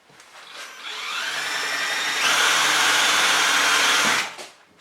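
A hammer drill switched to its screw setting whines up and runs steadily as it starts a pilot hole, rising in pitch partway through before cutting off, close and alone with no talk.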